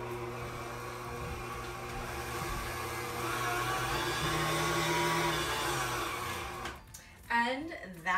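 A SMEG stand mixer runs with a steady motor whir and hum, close and fairly even, before it stops and a voice speaks near the end.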